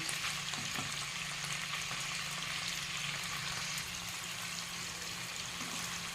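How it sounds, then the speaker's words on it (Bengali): Chicken pieces frying in oil in a pan, a continuous even sizzle at moderate loudness with faint stirring, heard alone without any speech. "আরেকটা পাশও ভালো করে ভেজে নেব।"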